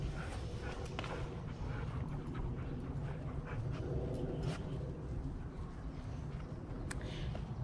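An 11-year-old husky mix dog whimpers faintly and pants under a constant loud low rumble, with soft scuffling steps and scattered small clicks nearby.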